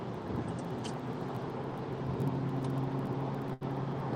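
Road traffic rumbles steadily nearby, a continuous low roar of passing vehicles with no voices, briefly cutting out near the end.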